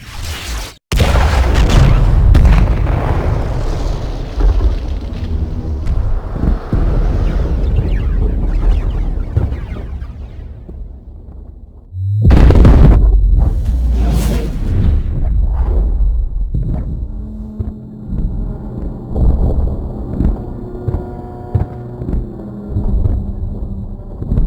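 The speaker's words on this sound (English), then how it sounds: "Ship damage. Explosions." Heavy booming spaceship explosions in the Star Citizen video game, a loud burst near the start and another around the middle, with deep rumbling tails, then lingering crackling debris and lower rumbles.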